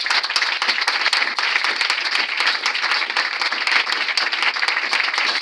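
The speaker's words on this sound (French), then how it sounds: "Acclame le Seigneur Jésus" A church congregation applauds during a Sunday service, a dense and steady burst of many hands clapping that stays loud throughout.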